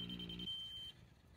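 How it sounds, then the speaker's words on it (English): A laser grade receiver used while installing a septic system emits a steady, constant high-pitched beep, faint and alone, with a brief lower buzzy tone at the start. "Hear that constant beep?"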